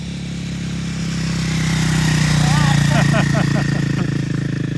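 An ice racing motorcycle engine idles close by on a cold track, a steady low rumble that swells slightly, with a few brief chirping whistles over it partway through.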